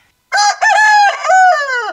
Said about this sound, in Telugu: కోడిని చూస్తే లగ్గకు లగ్గు ఉంది సురేజ